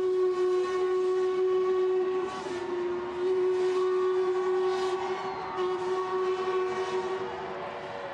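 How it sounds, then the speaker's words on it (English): Steam train Prince Elizabeth sounding a long, sustained whistle from the Chelsea River Bridge during the Thames pageant, a steady tone held loud for several seconds over outdoor rumble. "The Prince Elizabeth steam train blew her horn from the Chelsea River Bridge as she went."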